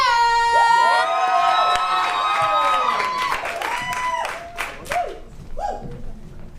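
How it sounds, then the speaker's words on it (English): Applause and cheering from a stand-up comedy audience, dense at first and thinning out, with voices and shouts mixed in. "A round of applause for Spencer."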